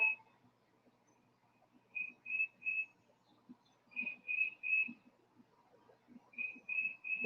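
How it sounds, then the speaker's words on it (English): A bird repeats bright, clear whistled phrases in short bursts of three notes, separated by pauses, over a quiet background with faint low rustling. "You can hear the birds only from the soundtrack."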